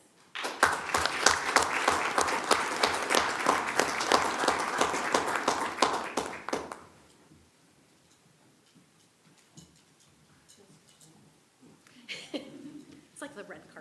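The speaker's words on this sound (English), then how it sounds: "Again, a big round of applause for all the hard work that they do." A board meeting audience gives a sustained round of crisp, even clapping for about six seconds, which dies away into room quiet with some murmuring and a brief voice afterward.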